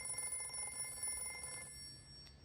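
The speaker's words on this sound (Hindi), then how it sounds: "फोन बज रहा है तेरा" A mobile phone rings indoors with a steady, tonal ringtone that stays fairly quiet and fades near the end of the short stretch.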